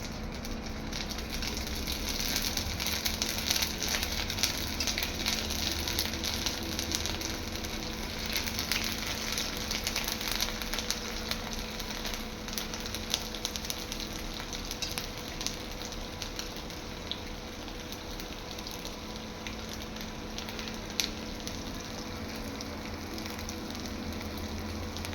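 Chhana sweets fry in hot oil in a kadai with a soft, continuous sizzle and fine bubbling that hold steady and fairly quiet throughout, with no voices.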